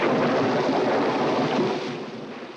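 A deep, broad rumble of thunder from the 1960s TV series The Munsters rolls continuously, loud at first and gradually fading toward the end.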